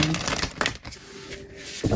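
A cut-down deck of playing cards being shuffled, with a few quick papery riffles and snaps close up, heard alone.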